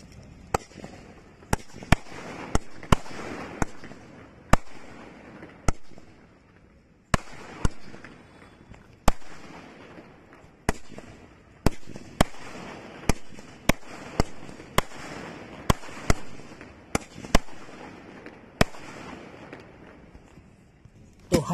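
Diwali 12-shot sky firework shells bursting one after another outdoors, many sharp loud cracks at irregular intervals with faint rushing in between, continuing throughout.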